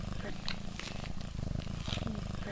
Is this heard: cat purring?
yes